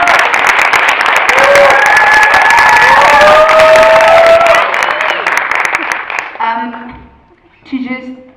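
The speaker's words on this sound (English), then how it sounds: "Can I please get a round of applause?" A loud audience at an Afro-futurism talk event bursts into applause, cheers and whistles for several seconds, then the clapping fades away and a few voices call out near the end.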